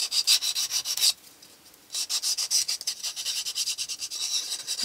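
A wooden piece has its edge lightly broken by hand sanding: brisk, close rubbing strokes in a steady rhythm, a short pause, then more scratchy back-and-forth sanding.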